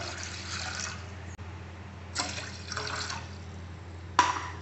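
Water poured from a glass into a pot set on the stove to boil, about three glassfuls, in a home kitchen; a steady low hiss of running liquid with three separate splashy pours, fairly quiet and with no talk.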